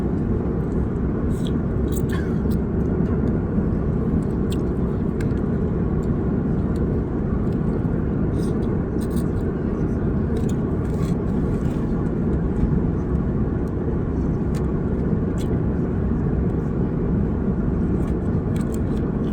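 Airplane cabin noise in flight forms a steady, loud low roar throughout, with faint clicks and small handling or eating sounds scattered over it.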